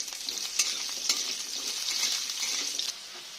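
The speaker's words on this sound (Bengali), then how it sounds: "আমি প্রথমে আলুটা ভেজে নেব লাল লাল করে" Potatoes frying in hot oil in a pan for an aloo-potol dish with egg, a steady close sizzle that holds evenly for the whole stretch, with faint stirring clicks and no talk.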